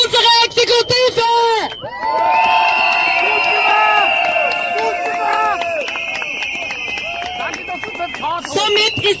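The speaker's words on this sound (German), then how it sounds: "Und noch einmal einen ganz großen Applaus für unsere Exekutive!" Crowd at the close of a peace protest march on Vienna's Ringstrasse applauds the police, with loud, sustained cheering, whoops and clapping swelling after a brief opening burst and staying dense and close throughout.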